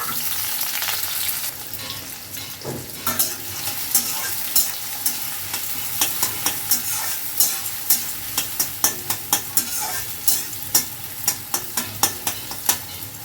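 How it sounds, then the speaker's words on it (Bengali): Chopped onion hits hot mustard oil with cumin, giving a steady frying sizzle, followed by a long run of regular, evenly spaced spoon scrapes against the pan, close and clear, with no talking. "জিরেটা যখন একটু ফ্রাই হয়ে গেছে, তার মধ্যে আমি দিয়ে দিচ্ছি কেটে রাখা পেঁয়াজ কুচিটা।"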